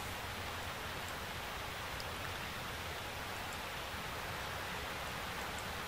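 Steady, dense rain hiss in Euro Truck Simulator 2, a constant even wash of falling rain with faint droplet ticks, no speech.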